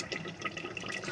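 Yogurt is poured into a cooking pot for a restaurant-style korma, giving a brief, soft, wet plopping and sloshing sound lasting about a second.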